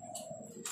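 A perkutut zebra dove of Majapahit strain, a brongso kutut with a pale collar, gives a short soft coo close by, followed by a brief higher note.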